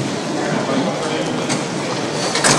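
A Paris metro train running in a broad, steady rumble with rushing noise and faint rattling, loud and continuous throughout, with a voice speaking over it.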